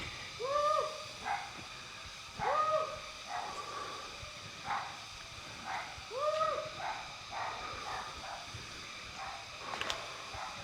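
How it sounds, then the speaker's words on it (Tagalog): Outdoors at an eco camp in Indang, Cavite at night, crickets keep up a steady high chirping while a dog barks faintly in the distance in spaced pairs of yelps, with no speech over it. "Huni ng kuliglig, tsaka yung tawol ng aso lang marinig."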